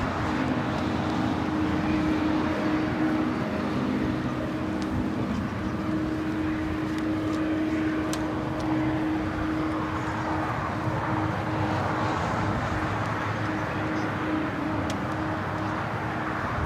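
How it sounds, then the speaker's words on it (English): A United Boeing 787-10 Dreamliner arriving at LAX from Tokyo Haneda on runway 24 right, heard as a steady, sustained jet engine roar that holds at a fairly even level throughout, with a faint tonal whine on top. "United Dreamliner on the north side, coming in from Tokyo Haneda, 787-10 Dreamliner"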